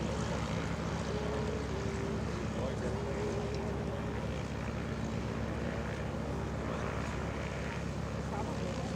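A Corsair propeller plane's engine drones continuously at a constant level at EAA AirVenture, with faint tonal whines layered over the broadband roar and no pauses.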